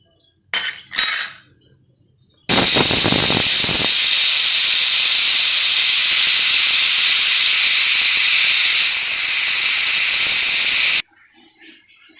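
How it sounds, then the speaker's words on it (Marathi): Pressure cooker on the stove while white peas cook, releasing a loud, sustained hiss of steam that runs for several seconds after a couple of brief clinks, then cuts off abruptly. "आता आपण याला एक चांगल्या पाच सहा एक शिट्ट्या देऊन घेऊया"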